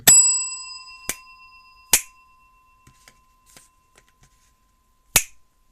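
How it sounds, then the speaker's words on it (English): A small tabletop bell rung again during a real-life Inscryption card game gives one clear ring that dies away over about two seconds. A few crisp clicks follow, with faint tapping between them and no speech. "You ring the bell again."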